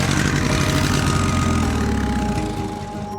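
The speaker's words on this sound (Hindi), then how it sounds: "मोटरसाइकिल की आवाज आई।" A cartoon motorcycle engine rumbles with a steady, throbbing idle, close and loud, then fades slightly in its final second.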